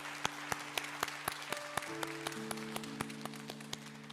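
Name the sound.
congregation applauding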